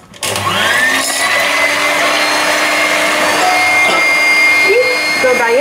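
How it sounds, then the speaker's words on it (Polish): An electric mixer whips egg whites with a pinch of salt for a Polish Murzynek chocolate cake, a steady, loud whirring drone that runs throughout with shifting pitch as the beaters move, while someone speaks over it. "Teraz ubijemy białka i ja zawsze do białek dodaję szczyptę soli."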